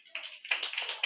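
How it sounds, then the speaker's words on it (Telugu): A Good Friday worship congregation claps hands, a short run of quick, soft, uneven claps at a moderate distance, with no voices over them. "చప్పట్లు పట్టండి అందరూ"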